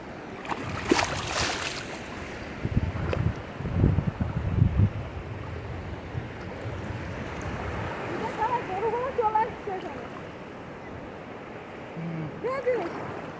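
Sea waves at Bakkhali beach, a continuous wash of surf with wind, while people talk and a voice calls out now and then nearby.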